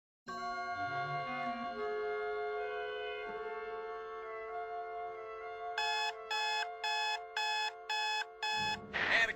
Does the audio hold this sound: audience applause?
no